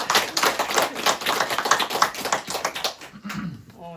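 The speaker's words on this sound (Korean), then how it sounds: "박수 한번 주세요" Audience applause at a talk on mind study, a dense burst of many hands clapping that fades out after about three seconds, followed by a brief murmur of voices.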